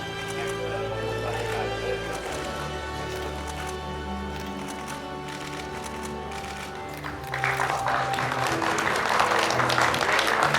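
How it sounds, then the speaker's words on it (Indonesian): Applause from an audience at a signing ceremony between an Indonesian environment ministry and Sinar Mas for a nursery centre, steady clapping throughout with music and a voice mixed in, growing louder near the end. "Tepuk tangan yang meriah."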